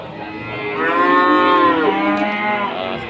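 A cow at a cattle market moos loudly and close by, one long drawn-out low call that swells and then trails off.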